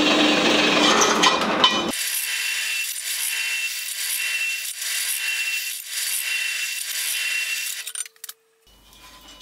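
A power drill, run from a portable power station, bores 10mm holes with a continuous grinding whir that dips and surges across several seconds before cutting out abruptly.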